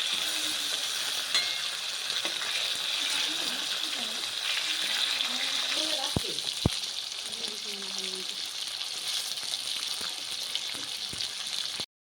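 Fish frying in oil in a pan, a steady close sizzle and crackle throughout, with a few brief knocks as the pieces are turned.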